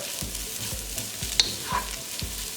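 Dried red chillies fry in a pan for a spicy chicken dish, a steady hissing sizzle broken by regular spatula scrapes and a sharp metallic clink midway.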